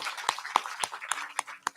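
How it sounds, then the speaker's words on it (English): Scattered hand claps ring out at a book launch ceremony, a few people clapping in a loose, fairly regular rhythm rather than a full applause, close and moderately faint. "Shall we give a big round of applause to all of them who are here today?"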